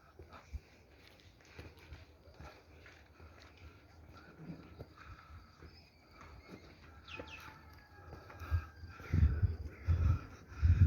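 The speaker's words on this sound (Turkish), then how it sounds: "Horozlar ötüyor." Roosters crow faintly in the distance over quiet early-morning surroundings at Al-Aqsa Mosque in Jerusalem, followed by a few louder low thumps near the end.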